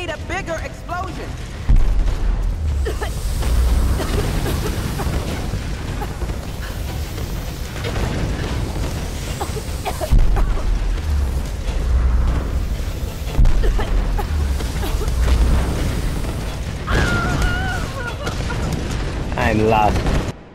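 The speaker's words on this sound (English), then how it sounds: "We need a bigger explosion." Rumbling explosions in Tomb Raider and booming blasts over a dense, continuous roar, with voices talking throughout.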